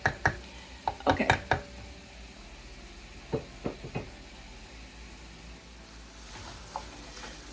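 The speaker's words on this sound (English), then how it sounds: "my pan sausage is still cooking" Pan sausage sizzles softly in a hot pan, a low steady frying hiss broken by several sharp clatters and scrapes early on and a few more knocks midway, with no talking.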